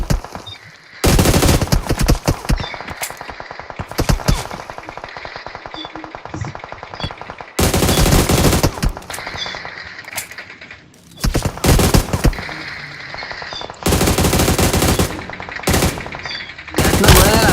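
Loud automatic gunfire in a video game battle, repeated long bursts of rapid shots separated by brief lulls, close and dominant throughout.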